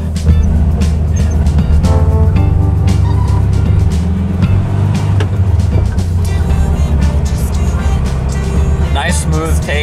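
A VW Kubelwagen pulling away with a steady low engine drone and rumble that builds as it rolls off, loud and close, with someone talking over it.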